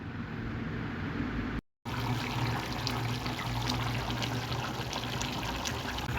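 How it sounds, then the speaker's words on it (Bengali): Water pours steadily into a pot of meat curry, a continuous close splash and trickle broken by one brief gap near the start. "জল দিয়ে নেড়ে চেড়ে নেব।"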